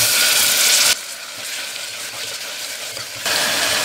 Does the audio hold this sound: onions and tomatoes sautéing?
yes